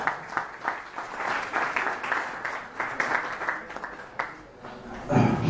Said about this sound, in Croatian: Jedan aplauz.